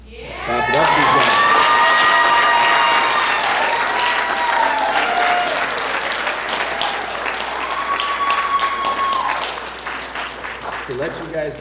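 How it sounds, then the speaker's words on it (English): Applause and cheering from a crowd at a high school senior football signing day, loud and sustained for about ten seconds with shouts and whoops on top, then fading out. "Let's clap it up, these guys."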